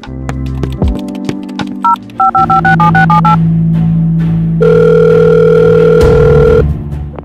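Telephone keypad tones in the Roblox Brookhaven game beep in a quick run of short presses, followed by a steady dial tone and an electronic hum, all loud and close with no talking.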